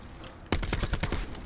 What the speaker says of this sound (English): This guy starts shooting at me